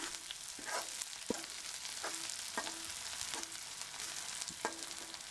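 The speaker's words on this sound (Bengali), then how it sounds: "একটু ভেজে নেব।" Onions frying in a pan for egg bhuna, a steady soft sizzle throughout with a few brief tonal scrapes of stirring spaced through it, quiet and close with no talking.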